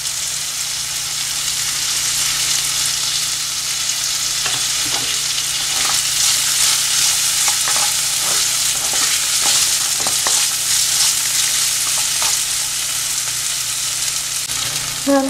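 Chopped green pepper frying with salt in a pan for Soya Chunks Manchurian, a loud, steady close sizzle with occasional stirring scrapes throughout and no talking.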